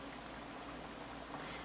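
Dominican fried chicken sizzles in hot oil, a steady dense crackling hiss that holds evenly throughout, close and without talk.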